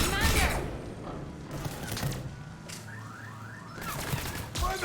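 Gunfire and a grenade blast in Mass Effect Legendary Edition combat, with sharp shots and thuds over a steady battle din, and character voices shouting over the action.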